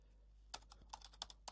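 Quiet, close keyboard typing: a handful of quick, uneven key clicks over a low steady hum.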